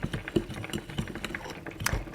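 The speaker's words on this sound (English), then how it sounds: "You might hear something simmering in the background" Fruit ketchup simmers in a pot on a home stove, giving faint, irregular bubbling pops and gurgles in quick succession, heard alone at low level.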